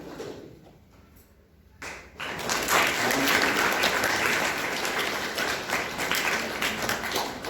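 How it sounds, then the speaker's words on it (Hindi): Hall audience at a Diwali celebration clapping: a few quiet moments, then a full, loud wave of many hands starts and keeps going evenly to the end. "ताली बजाते रहिए।"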